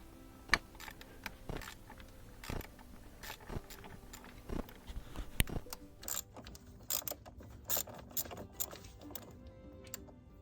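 Ratchet loosening 8 mm screws on the fuel rail of a GMC Yukon, with close, crisp ratcheting clicks in short repeated runs and occasional metallic taps.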